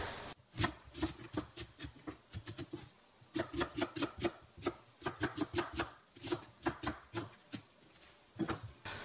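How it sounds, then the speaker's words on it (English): Onions are chopped on a cutting board with a knife, quick rhythmic bursts of sharp chops close by, pausing briefly between runs, with no talk. "So now we have all the onions chopped."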